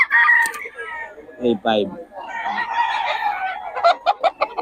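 Chickens and roosters at a poultry stall in a Bocaue flea market give out clucks and a crow-like call amid crowd noise, with people talking nearby throughout.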